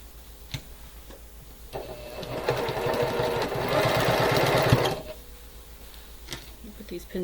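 Sewing machine stitching unpinned pieces of a quilt block, a steady mechanical whir building for about three seconds of continuous running before stopping, with a few light clicks and handling noises before and after.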